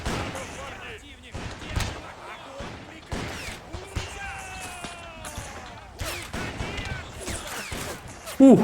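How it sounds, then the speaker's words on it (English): Sustained musket and cannon fire rolls through a Crimean War battle at Sevastopol in a strategy game, dense overlapping shots with several sharper bangs, steady and loud throughout, with a voice briefly heard over the din. "Ooh, heavy fire coming in, man."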